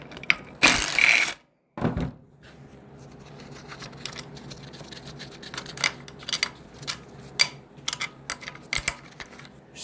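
A 15 mm socket on a swivel ratchet loosens bolts during a 4L60E transmission teardown, with a couple of loud clanks early, then a run of quick, close metallic ratchet clicks and taps.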